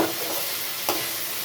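Vegetables with salt stir-fry in a hot pan, a steady close sizzle with a brief scrape of stirring partway through.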